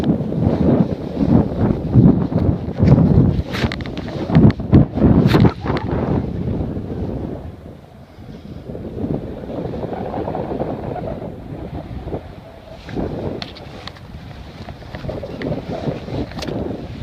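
Strong wind buffets the microphone outdoors near Weston, loud gusty roaring rumble with sharp thumps early on, easing briefly around the middle before building again, with no voices.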